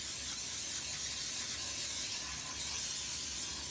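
Cooking spray hisses steadily from an aerosol can while greasing a bundt pan for monkey bread, a continuous close, even spray lasting a few seconds with no talking.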